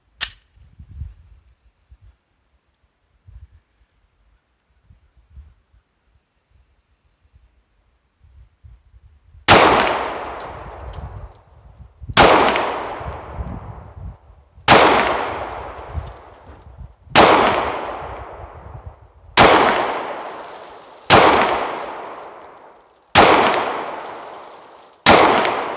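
Smith & Wesson SD40VE pistol fired at a range: after a long quiet stretch, seven sharp, loud reports ring out at steady intervals of about two seconds, each decaying quickly before the next.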